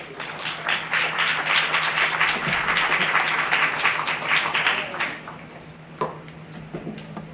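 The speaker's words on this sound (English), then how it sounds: "Round of applause, please" Audience applause at a business investment summit in Belize, a dense crowd of clapping that fills the room for about five seconds, then thins to scattered claps and fades out.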